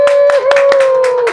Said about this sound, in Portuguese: contando com o aplauso digital de todos vocês e contando também com a sonoplastia de toda uma equipe de apoio aqui